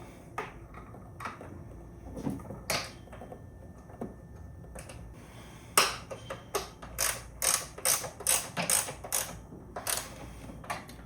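Ratchet with a 10 mm socket tightening bolts on a Street Series air-oil separator being converted to Comp Series, a run of quick clicking bursts that grows into a steady rapid series of close, distinct clicks in a quiet shop.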